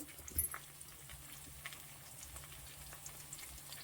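Mustard seeds and onions frying in hot oil for kuzhambu give a steady, soft sizzle with faint crackles. It stays fairly even and close, and no one talks over it.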